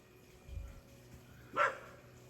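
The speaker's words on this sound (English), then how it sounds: "the dog will keep barking" Outdoors in brushy ground where French broom grows, a dog gives a single short, faint bark from some distance, preceded by a low thud against a quiet background.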